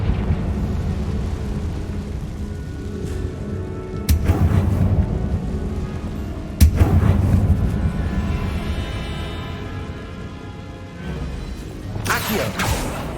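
Confringo blasting curse explosions in Hogwarts Legacy on PC, heavy low rumbling booms with two sharp blasts and a later crash, over continuous deep background rumble.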